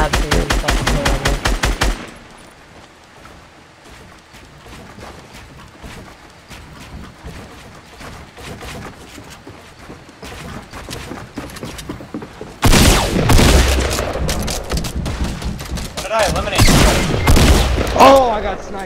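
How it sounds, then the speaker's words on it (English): Gunfire in the Fortnite video game, with loud rapid bursts of automatic shots at the start and again in the second half, separated by a quieter stretch, while players talk throughout. "I got sniped from the side"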